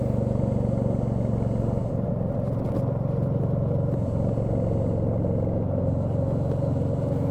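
Steady engine rumble from a Royal Enfield Meteor 350 motorcycle out on a ride, a continuous low drone with wind noise that holds constant throughout.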